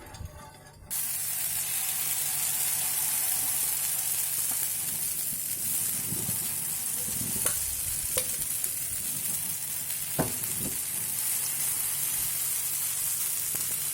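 Batter of gram flour and egg fries in oil in a pan on a low stove, a steady close sizzle running nearly the whole time after a quiet first second, with a few faint clinks.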